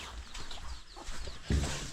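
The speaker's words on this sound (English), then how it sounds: "Oh, look at this chicken." A chicken clucks in short, faint bursts against steady background noise, with one louder cluck toward the end.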